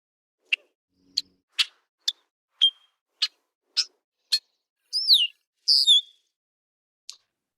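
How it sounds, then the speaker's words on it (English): A male red-winged blackbird gives a string of about ten separate alert calls, mostly short sharp chips spaced roughly half a second apart, then two longer slurred descending notes and a final chip, clear against silence. "So there's 10 different calls from a male red-winged blackbird."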